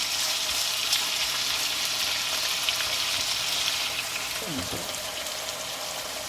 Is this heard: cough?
no